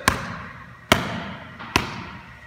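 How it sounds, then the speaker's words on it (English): A stiff hand striking a volleyball during spike practice, giving three separate dull hits at a steady pace about a second apart, each followed by a fading room echo. "If it has a lower pitch sound or a thud like this,"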